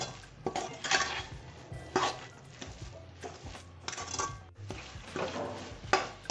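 Coconut ladoo mixture with powdered milk being stirred in a pan over a low flame, giving irregular scraping and clattering of the utensil against the pan, close up and fairly soft, with no voices.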